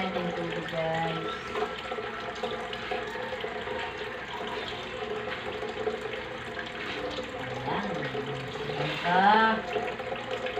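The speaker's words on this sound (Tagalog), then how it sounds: "Lagyan natin tubig, guys." Tap water pours steadily into a cooking pot for Filipino pork nilaga, a continuous close splashing fill that runs the whole time and swells briefly near the end, with faint background sounds.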